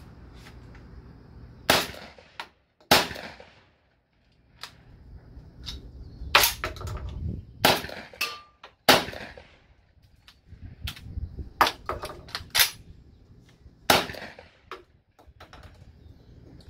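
A Hatfield 12-gauge SAS shotgun firing reloaded shells outdoors, with a series of sharp, loud reports spaced a second or two apart over a faint background.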